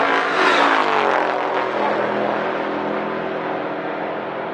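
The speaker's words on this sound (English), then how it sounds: "Thorpe dialed 1054. Supercharged LS for power." A drag race car with a supercharged LS engine roars past at full throttle, a loud, dense engine howl that peaks early and then fades slowly as it pulls away down the track.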